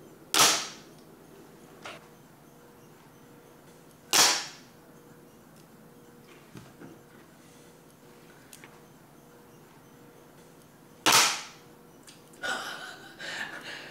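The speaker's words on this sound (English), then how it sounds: "the cover just snaps back into place" The cover of an ORION FX magazine snaps back into place: three loud, sharp snaps spaced several seconds apart, with faint handling clicks between them and no talking.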